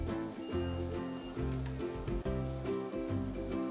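Steady crackling sizzle of onions frying in a hot pan, with a music-like harmonic background running underneath.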